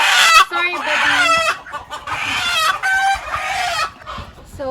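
Chickens on a homestead cluck and squawk loudly and close by as they are transferred into a bigger coop, a run of agitated harmonic calls with a crowing note among them and brief gaps between bursts.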